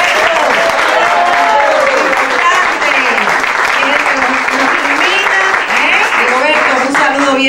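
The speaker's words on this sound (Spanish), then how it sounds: "Un fuerte aplauso para Rigoberto" Loud, sustained theatre-audience applause at the Teatro Repertorio Español in New York, honouring a lighting technician, with a voice calling out over the clapping throughout.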